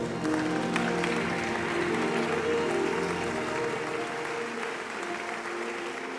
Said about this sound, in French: Tenons-nous debout et nous acclamons le Seigneur.